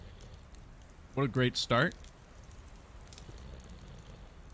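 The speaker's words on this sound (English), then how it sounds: "Okay, here's the rain." Rain in the survival game Card Survival Tropical Island falls as a soft, steady hiss beneath a brief spoken phrase.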